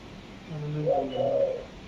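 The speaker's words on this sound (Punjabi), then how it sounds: "ਉਧਰ ਘੁੱਗੀ ਘੁੰ ਘੁੰ ਕਰਦੇ" A dove coos in a soft, low, two-part call, the hollow notes rising and falling over about a second, moderately close against a faint background hum.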